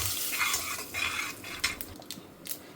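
Mustard seeds sputter and pop in hot oil for a mango dish, a close, crackling sizzle with sharp bursts above a steady hiss.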